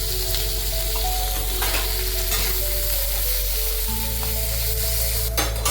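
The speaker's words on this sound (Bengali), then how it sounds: "গাজরগুলো আমি ওরকমই 4-5 মিনিট ধরে ভালো করে আমি ভেজে নেব" Carrots fry in hot oil in a pan, a constant close sizzling hiss with occasional stirring clatter and a loud scrape near the end.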